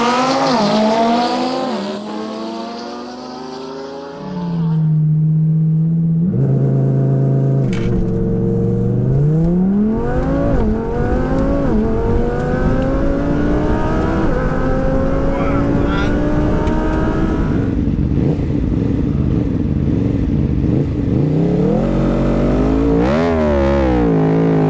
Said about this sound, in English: Next up is the drag races.